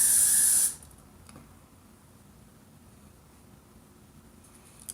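Hairspray shoots from an aerosol can onto hair during pageant styling, giving one loud, bright hiss that lasts under a second and cuts off abruptly, leaving a quiet room with faint rustling.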